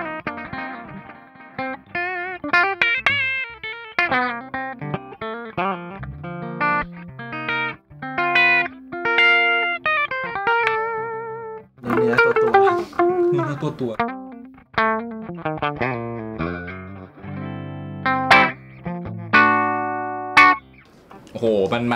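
Strandberg Boden Sarah Longfield Edition electric guitar played through effects, with clear picked notes, runs and ringing chords in phrases that rise and pause, loud and close.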